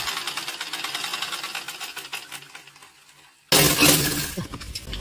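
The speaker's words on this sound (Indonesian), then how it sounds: "mesin jahit yang bisa membuat jahitan berpola" A sewing machine stitching a zigzag pattern on a pillow, a steady mechanical whir with rapid needle ticking that runs for a few seconds, drops away, then returns louder and busier.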